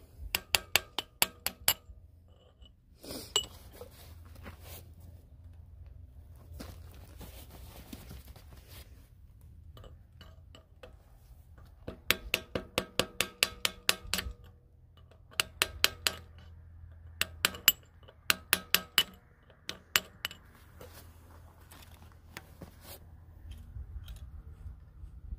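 Repeated sharp metallic taps from a hammer striking a full-float rear axle brake drum to free it, delivered in quick bursts of several strikes separated by pauses, close and clear over a low background hum.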